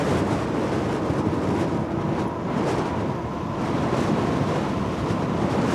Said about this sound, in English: it's definitely very windy